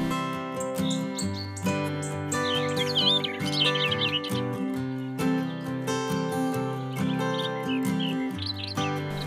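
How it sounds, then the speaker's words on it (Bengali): A bird of paradise in Indonesia gives loud, clear calls: repeated tonal whistles and chirps in phrases, with rich harmonic notes and a warbling run in the middle, close and alone. "ইন্দোনেশিয়ায় দেখা মেলে এক অদ্ভুত সৌন্দর্যে আবৃত পাখি বার্ড অব প্যারাডাইস।"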